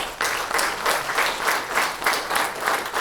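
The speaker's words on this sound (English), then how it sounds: "So big applause to the panel." Audience applauds a tour operators and local culture panel at a Singapore sustainable tourism conference, with steady, dense clapping that carries evenly through the whole moment at moderate loudness.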